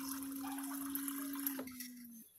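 Plain tap water being poured into a container of warm water for drinking, a steady liquid splash with a faint ringing tone that tapers off after about two seconds.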